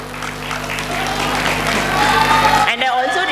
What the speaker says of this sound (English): Please give a big round of applause to the guide teacher, Mr. Ashish Patil